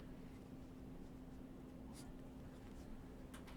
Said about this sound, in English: I'm just going to sketch a crazy function.